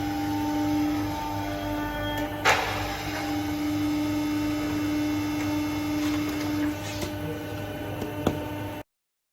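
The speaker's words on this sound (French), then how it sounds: "Profilage des 900 plaques de zinc avec une presse de 10 tonnes." A 10-tonne press profiling zinc plates during a church restoration hums steadily, with one sharp metallic clunk early on and a few lighter knocks later before cutting off abruptly.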